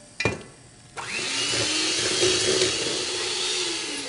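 An electric mixer beating pineapple upside-down cake batter: a sharp clatter, then the motor kicks on and whirs steadily with a rising and falling pitch as the beaters churn.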